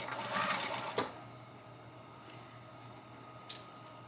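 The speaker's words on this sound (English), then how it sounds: "and I'm going to sew." A sewing machine stitches through fleece sherpa blanket fabric in a steady, fast whir for about a second, then stops, leaving quiet room hiss and a brief click.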